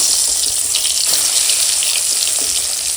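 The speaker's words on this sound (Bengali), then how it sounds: "এখন তেল গরম হয়ে গেছে মাছ ভেজে নেব" Tengra fish frying in hot oil, a steady dense sizzle that stays loud and even throughout, with no voices over it.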